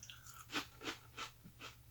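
Crunchy butter-fried rice Chex being chewed close up, four distinct crisp crunches in a steady rhythm, quiet and with no talking.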